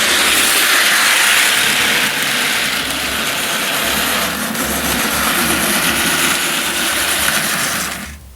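A Percy model toy train runs around a layout with a continuous whirring motor and rattling wheels on track, steady and close, fading away at the very end.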